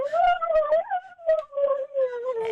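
A voice imitates an alien having an orgasm with warbling, wavering hums that swoop up and down in pitch, carried on without pause for a couple of seconds and heard close and alone.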